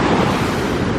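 Rough ocean surf breaks loudly and continuously on a Sri Lankan beach with rocks in the water, a dense roaring wash close by with some wind buffeting and no voices.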